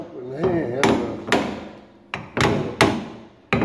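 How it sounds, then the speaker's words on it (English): A brass hammer raps a front disc brake part on a 1969 Ford Mustang with original-equipment brakes: six sharp metallic strikes at uneven intervals, close and clear. "So I take my hammer and I give it a little bit of a helping hand."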